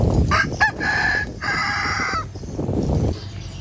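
A rooster crows loudly nearby, a drawn-out cock-a-doodle-doo in several stretched phrases over a rough, noisy outdoor background.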